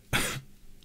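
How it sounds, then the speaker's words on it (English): A single deliberate fake cough from a man, one short harsh burst followed by quiet room tone. "fake cough,"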